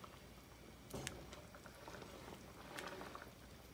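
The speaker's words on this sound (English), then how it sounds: "it's starting to come to a boil" Sauce for a one-pan tuna casserole comes to a boil in a pan, giving faint, steady bubbling with a couple of slightly louder pops.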